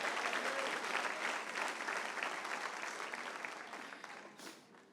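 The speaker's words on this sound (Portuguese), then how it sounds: "Se você vai dar palmas para Jesus, dá glória também." A church congregation applauds at an evening service, dense sustained clapping from a large crowd that gradually fades toward the end.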